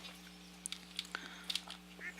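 Ducks in the farming game Stardew Valley give a scatter of short, quiet quacks over a steady electronic hum.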